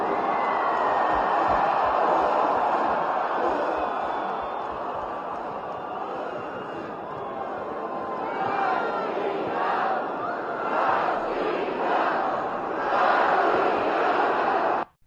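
A huge stadium crowd of tens of thousands roars and chants as Vladimir Putin enters to give a speech, a dense continuous wall of cheering with rhythmic shouted surges, distant and reverberant.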